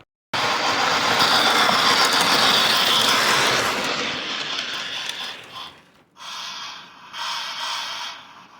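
A train pulls into a station with a loud sustained rumble and grinding mechanical noise that swells and then fades after a few seconds, followed by quieter hissing and clanking.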